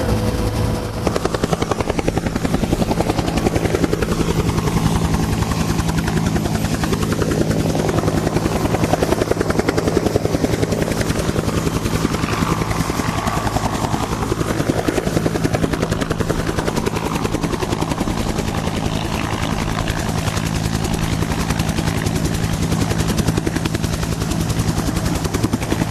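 Vintage Huey helicopter in flight, heard from inside with a loud, unbroken turbine whine and rapid rotor beating, steady throughout with faint slow swells in tone and no talk.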